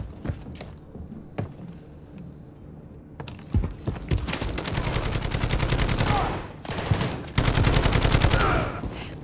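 Sentry gun fire in Call of Duty's Precious Cargo mission, loud rapid automatic bursts hammering in long sustained stretches with brief gaps, after a few scattered clicks and thumps at the start.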